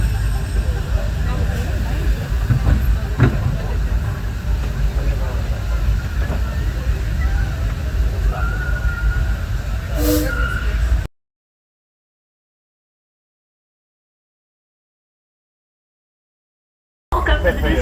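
A Disneyland Railroad train running at night behind steam locomotive Ernest S. Marsh: a steady rumble and rattle of the moving train with a brief squeal, mixed with crowd babble and voices, then cut off.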